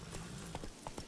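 Roach the horse gallops in The Witcher 3, hooves striking in a quick uneven run of four or five thuds over about a second, close and clear and alone.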